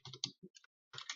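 Code typed on a computer keyboard: a quick, quiet cluster of keystrokes, a brief gap, then another short run of clicks.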